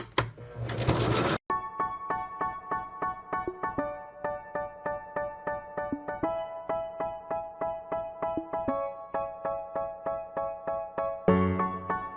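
A sewing machine runs steadily, stitching the fabric strap of a men's toiletry bag in a fast, even rhythm after a brief burst of rustling, close and clear throughout.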